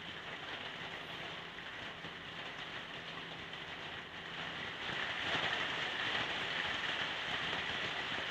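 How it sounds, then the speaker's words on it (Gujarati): Heavy rain with hail pours down in Viramgam, Gujarat, a dense steady roar of drops hitting surfaces that grows slightly louder partway through, with no voices. "ત્યાં ધોધમાર વરસાદ પડી રહ્યો છે"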